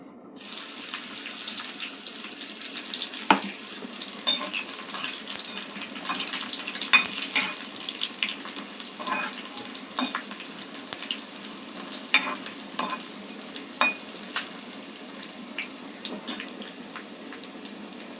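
Soft, steady sizzle of crushed garlic frying in oil for tempering, with scattered sharp pops and crackles over a quiet hiss.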